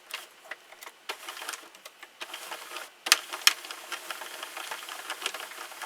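A Sentro knitting machine is cranked, producing a string of light plastic clicks and rattles in an uneven rhythm, quiet and close, with a brief pause before the clicking resumes faster.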